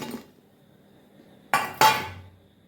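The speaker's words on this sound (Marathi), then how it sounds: "आता हे एका ताटामध्ये आपण काढून घेऊया" Fried palak bhaji, crisp spinach-leaf fritters, are lifted out onto a plate: two sharp metallic clinks of utensil against pan and plate in close succession, after a quieter stretch with faint clatter at the start.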